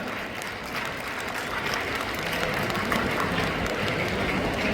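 A hall crowd applauding the organising schools at a science exhibition opening ceremony, dense steady clapping that holds throughout without a break.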